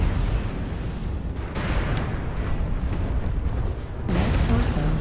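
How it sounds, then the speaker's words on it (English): An incoming missile exploding on a mech in Mechwarrior Online. Heavy booming blasts and rumbling impacts run continuously, with a sharper burst near the end and some voices over the din. "Warning, incoming missile."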